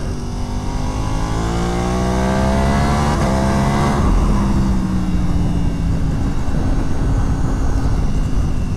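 A 2025 Ducati Panigale V4S Tricolore motorcycle roaring loudly while ridden, its engine revs climbing steadily, then dropping at a gear change and building again, with constant wind rush.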